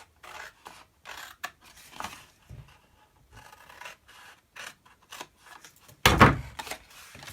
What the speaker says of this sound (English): to the centre score of those 3 score lines and snip it off.